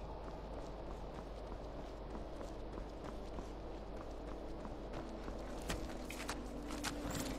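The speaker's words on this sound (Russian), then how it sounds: "Ты что, скакала куда, лошадка?" Horse hooves clip-clopping in the video game Skyrim, a steady run of soft hoofbeats over a constant ambient background, moderately quiet throughout.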